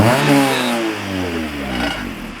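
Honda wagon exhaust revving just after the engine starts, a loud, close, rough blat with pitch rising then sagging and rising again over a couple of seconds, no talk.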